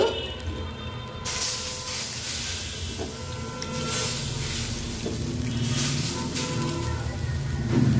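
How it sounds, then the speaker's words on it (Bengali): Water splashed in small sprinkles onto semolina pulao cooking in a pan, a steady broadband hiss and sizzle that swells slightly as the water hits, continuous and fairly close with no talking. "একটু জলের ছিটে দিব"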